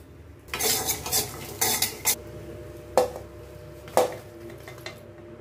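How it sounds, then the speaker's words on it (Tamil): Dried chillies and unpeeled garlic frying in oil, a soft sizzle under several scraping stirs and clanks of a spoon against the pan, near and moderately loud with no talking. "மிளகாய், பூண்டு தோல் உரிக்காமல் அப்படியே கொஞ்சம் இந்த எண்ணெயில் போட்டு வறுத்துக்கலாம்."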